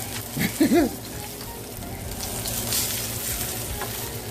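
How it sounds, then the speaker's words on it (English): Blackened salmon fillet sizzling loudly in a hot pan as it is flipped over: a steady, close frying hiss throughout, with a brief clatter from the turn near the start. "We're gonna flip our salmon over and just see how blackened we've gotten it."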